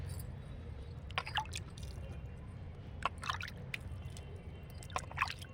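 Water sprinkled by hand onto garden soil, a few scattered soft drips and small splats landing irregularly over a low, steady background rumble, fairly faint and with no talking.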